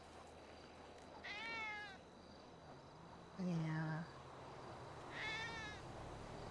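A cat in GTA V meows three times, drawn-out and wavering, spaced a couple of seconds apart over quiet background hum, with a short spoken word in between.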